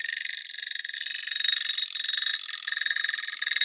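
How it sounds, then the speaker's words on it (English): An egg timer ringing with a continuous rapid buzzing trill, fairly faint and steady, alone without talk. "Egg timer."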